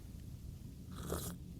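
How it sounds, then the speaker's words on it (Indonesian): Coffee is slurped once from a cup, a short, close, quiet sip lasting under half a second, with no talking around it. "Gue seruput dulu nih kopinya biar lo pengen ya."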